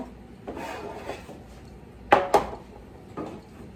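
A large square metal bread loaf pan is handled in a kitchen, producing a few soft scrapes and two sharp metallic clanks close by in quiet surroundings.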